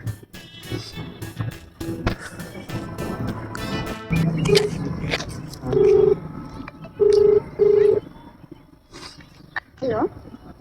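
A telephone being dialed for a call, giving several short steady tones in a row, the last ones louder and evenly spaced, heard against background chatter and movement with people talking nearby.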